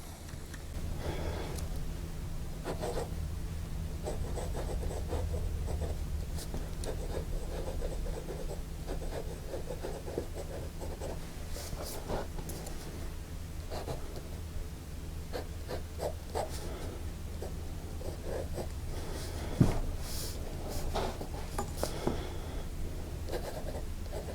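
Dellike New Moon fountain pen nib scratching across paper in handwriting strokes, soft continuous rubbing with small pauses, close and quiet, no voice.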